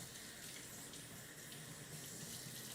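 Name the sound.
rinsing hands under a running tap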